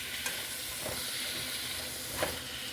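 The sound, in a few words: small bay scallops sizzling as they are added to the pan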